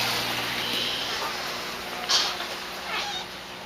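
A cat meows a couple of times nearby, fairly clear over a steady background hiss.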